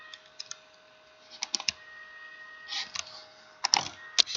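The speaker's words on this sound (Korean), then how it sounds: "Shift 누르고 N 치면" A handful of crisp computer keyboard key presses, close and clear, arriving in short separate clusters against a quiet background with a faint steady hum.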